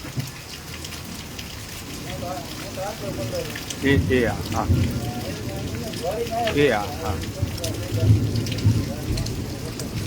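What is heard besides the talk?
rain falling in Halvad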